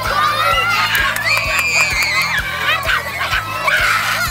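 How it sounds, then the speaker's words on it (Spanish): Children shouting and screaming as they open Christmas gift boxes: a loud, excited crowd of high-pitched young voices with shrieks and cheers, over a steady rhythmic thumping beat. "Cuando tú ves a un niño que abre una caja, lo primero que hace a veces es gritar de ver lo que hay allí dentro"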